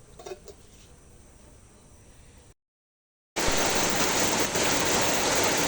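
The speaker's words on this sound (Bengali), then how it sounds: "দেখুন কিভাবে বৃষ্টি হচ্ছে, প্রচুর প্রচুর বৃষ্টি হচ্ছে" Heavy rain pouring down outside a home kitchen, a steady broadband hiss that drops out briefly, then returns much louder and fuller, with no talking.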